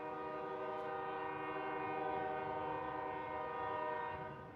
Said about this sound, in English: sorry about the train, y'all. I can't control the train.